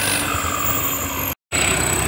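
A tractor engine runs at a tochan tractor tug-of-war contest. Its continuous loud drone holds steady, with a brief dropout near the end, and no one speaks.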